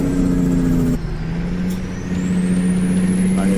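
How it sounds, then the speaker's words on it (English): A loaded construction dump truck slows with its Jake brake engaged, a loud close engine drone with steady tonal hum that dips briefly then resumes, with a rising whine toward the end. "I need to turn my Jake brake off because it's slowing down too much."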